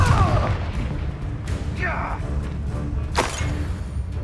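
A Confringo fire spell blasts in Hogwarts Legacy, a few sharp booming bursts and thuds spread across the clip, mixed with speech and combat noise.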